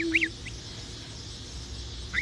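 A few short duck quacks come in brief bursts at the start and again at the end, fairly near, over a low background hum with a brief tone early on.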